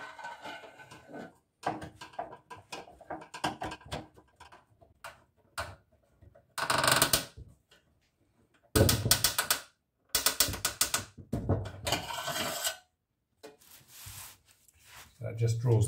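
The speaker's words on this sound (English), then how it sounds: "now have to get a couple of screws into the back of the heel" Screws are driven through the front block into the neck heel of a resonator guitar built from a stovepipe. The close, ratcheting bursts come in separate runs with quiet gaps between them.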